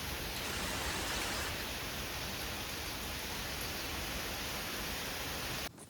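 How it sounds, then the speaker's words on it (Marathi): Heavy rain pours down steadily while people shelter under a highway toll plaza, a loud, dense, unbroken hiss that holds for several seconds and then cuts off abruptly. "आपण जायच्या आधीच पाऊस चालू झालाय"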